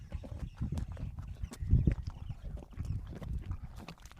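A horse crunches and chews on an apple up close, with soft wet munching and a few sharper bites amid light rustling.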